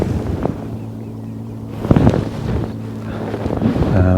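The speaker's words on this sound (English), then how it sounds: "The wind's been a bit of a pain." Wind gusting across the microphone at a fishing lake, loud buffeting rumble that rises and falls in waves, with faint bumps and handling noises mixed in.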